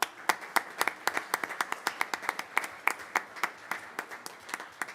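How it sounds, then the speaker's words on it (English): A modest group of people clap at a city council meeting, applauding their families: steady, distinct individual claps, fairly close, continuing for several seconds with no one speaking. "could we have a round of applause from our Bobcats for their families?"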